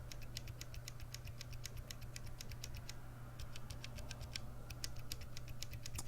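Gateron Black linear mechanical switches typed at a brisk, even pace, a close run of sharp plastic taps that pauses briefly near the middle and then carries on, with no one talking.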